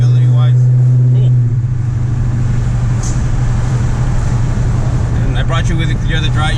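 Cammed Dodge Charger R/T on an E85 tune in normal stop-and-go driving, a loud low engine drone inside the car that settles from a strong hum into steady road and engine rumble, with people talking over it.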